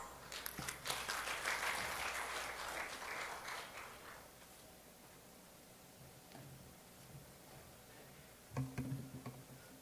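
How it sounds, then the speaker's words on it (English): Applause from a fairly distant audience at a conference session swells for a few seconds, then fades into room noise, with a brief burst of clapping near the end. "Please welcome Chairman Kwak Sung-jun of the Presidential Council for Future and Vision with one round of applause."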